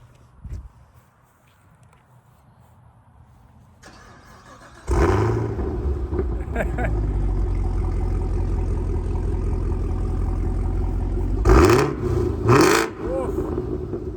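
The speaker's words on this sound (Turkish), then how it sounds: "egzoz sesini bir duyun" Chevrolet Camaro ZL1 1LE with the track package starts up with a loud exhaust bark, then settles into a deep, steady rumble, with two sharp revs late on and people talking over it.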